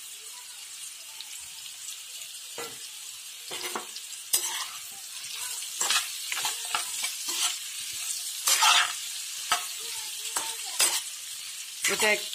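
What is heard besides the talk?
frying tomatoes, onions, chili and ginger in pan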